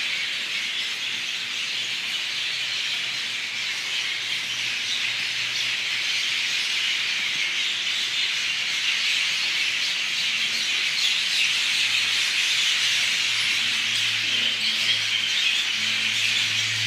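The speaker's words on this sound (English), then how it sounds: "these birds are all up in the trees making all kinds of" Dense chorus of birds calling and chirping from the trees in Hawaii, a steady, continuous wash of bright overlapping calls close by, with no talking.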